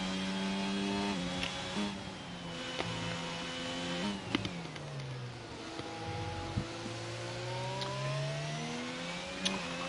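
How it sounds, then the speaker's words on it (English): Racing car engine in an eRacing Pro Series sim race video game, loud and continuous, climbing and falling in pitch through gear changes as the car drives off a corner, with brief downshift blips and revs dominating throughout. "I just like the engine sound coming off."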